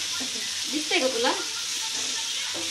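Food fries in oil in a pan with a steady, close sizzle that keeps going throughout, while someone talks over it.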